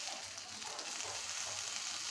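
Onions lightly frying in a pan, a steady soft sizzle of oil running without pause, close and fairly quiet, with no voices over it.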